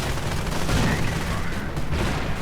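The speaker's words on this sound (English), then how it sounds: "Snipers opening up on the Americans." Sniper and rifle fire in a WWII real-time strategy game, a dense, loud crackle of overlapping gunshots and distant booms rolling continuously without a break.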